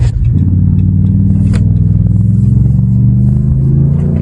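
A Ram truck fitted with a swapped 8-speed transmission sounds heavy and close, its loud, deep engine drone rising and holding steady, with a faint clunk partway through.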